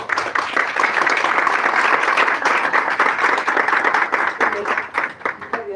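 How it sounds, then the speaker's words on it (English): Audience applause at a conference session, a dense, steady wash of many hands clapping at full volume, thinning slightly toward the end. "To our speakers and to the audience, a round of applause"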